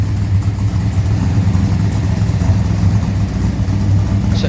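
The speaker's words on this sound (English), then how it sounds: "that's a beautiful note there from a very healthy Cleveland" A healthy Cleveland V8 in a restored 1970 XW GT Falcon idles close by, a steady, loud, even burble with a slight rhythmic lope and no talking.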